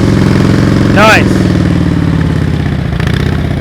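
A motorcycle engine runs steadily during slow-speed riding practice around cones, with one brief rev rising above the idle near the start. The bike is loud and close, with no talk.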